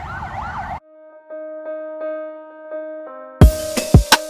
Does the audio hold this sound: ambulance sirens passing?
yes